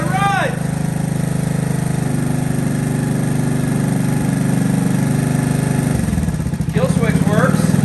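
A 1982 Honda ATC110 three-wheeler engine idling, a steady low mechanical drone with a shift in tone near the end, a person's voice briefly heard over it at the start and again at the close.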